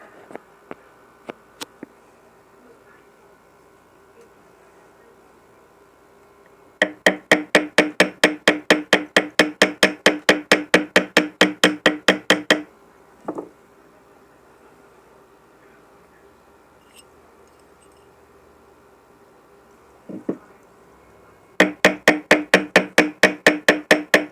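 Bursts of rapid, evenly spaced metallic taps from a ball peen hammer ringing on a white gold ring, two long runs separated by quiet with a few stray clinks.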